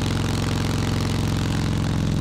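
A motorcycle engine fitted with a ThunderMax Auto-Tune fuel system runs steadily, a loud, even throb with a rapid regular pulse and no speech.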